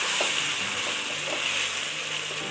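Stuffed brinjals (gutti vankaya) turned in hot oil for masala curry give a steady, bright sizzle with faint stirring clicks, continuous and fairly close throughout.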